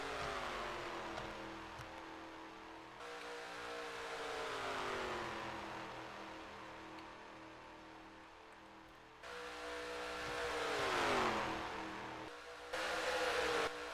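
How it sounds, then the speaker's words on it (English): A pack of race cars runs in a tight draft at an ARCA-style digital superspeedway in a sim racing game, engines droning steadily with pitch sweeps as cars pass, loud and continuous with a brief drop near the end. "We still have 37 cars running in the lead draft."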